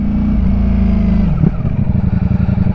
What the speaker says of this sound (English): oh, a little backfire